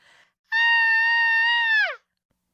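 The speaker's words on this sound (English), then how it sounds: "She gave a long, loud, feminine scream." A long, loud feminine scream voiced by a narrator, a single sustained high-pitched cry that holds steady for over a second and then drops off sharply, alone with no background.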